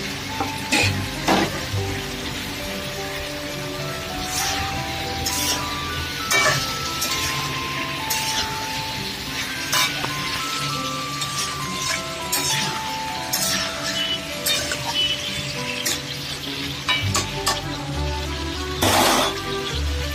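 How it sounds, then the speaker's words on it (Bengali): Chopped potatoes sizzle steadily in a hot pan of oil while a utensil stirs and clinks against the metal at irregular intervals, close and fairly loud, with no talking. "এবার এর মধ্যে দিয়ে দিলাম আলু কুচিগুলো।"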